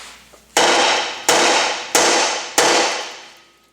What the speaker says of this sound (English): Use your hammer and strike the spindle where the ball joint stud goes through